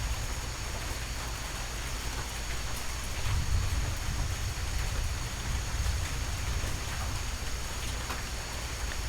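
Steady rainfall in a rainforest thunderstorm, a dense, even hiss of drops with a low rumbling swell partway through, constant and fairly close throughout with no voices.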